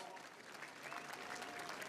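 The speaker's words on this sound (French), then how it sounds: "Vous pouvez vous applaudir" Audience applause at the Tour de France 2016 team presentation ceremony, dense continuous clapping from a large crowd, heard faintly and at a distance, with no voices on top.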